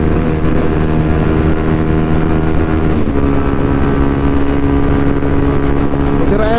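A Yamaha WR155 motorcycle riding fast at night, a loud continuous engine drone with strong low harmonics and wind rush, pitch holding steady then shifting slightly midway.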